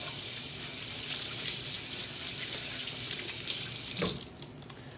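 Kitchen sink tap running steadily as oily hands are washed, a continuous close splashing rush that cuts off near the end.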